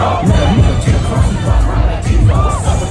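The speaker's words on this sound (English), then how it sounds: "I'm not shocked that this crowd going crazy" A large concert crowd at a Toronto show cheers wildly, a dense roar of shouts and whoops that swells and stays loud throughout.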